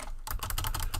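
Rapid keystrokes on a computer keyboard, close and fairly loud, a quick even run of clicks after a brief lull, with nobody speaking.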